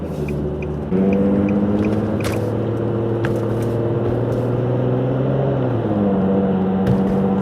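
Infiniti G37 sedan with a Motordyne Shockwave catback exhaust drones steadily while cruising at low city revs, a loud, close, continuous rumble with shifting engine tones and no talk.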